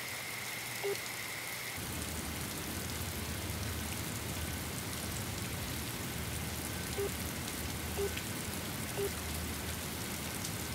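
Steady rain falls continuously with a dense, even hiss, and a few faint isolated drips stand out near traffic during a downpour; no one speaks.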